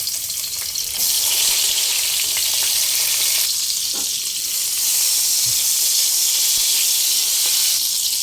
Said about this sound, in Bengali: বেগুনগুলো হালকা ভেজে নেব